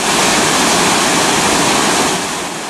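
A waterfall in Gabaldon, Nueva Ecija roars with a loud, steady rush of falling water that fills the soundscape, easing slightly at the end.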